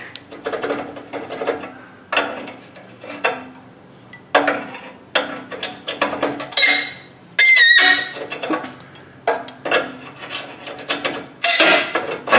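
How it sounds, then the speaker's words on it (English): A wrench works a snug bolt on a Chevrolet S-10 pickup with a high-idle fault. It gives close, repeated rasping and ratcheting strokes in short bursts, with a couple of sharp metallic clanks and no talking. "the wrench is a little snug now"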